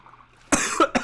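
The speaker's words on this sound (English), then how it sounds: "You're making me cough and whatnot." Several sharp coughs from a person, the first a loud burst followed by two shorter ones in quick succession, close and clear after a quiet stretch.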